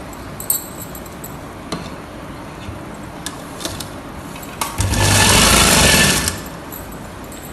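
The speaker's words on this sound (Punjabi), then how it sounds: "ਹੁਣ ਆਪਾਂ ਜਿਹੜਾ ਇਹ ਬੈਕ ਹੈਗਾ ਇਹਨੂੰ ਸਿਲਾਈ ਕਰਾਂਗੇ" Sewing machine stitching the back seam of palazzo pants, one loud burst of rapid motor whir lasting about a second and a half after light handling clicks.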